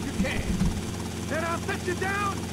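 A helicopter in the video game GTA Vice City, a steady rotor and engine drone running under someone talking, with gunshots and game effects mixed in.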